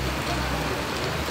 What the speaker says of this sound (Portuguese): Bastante chuva.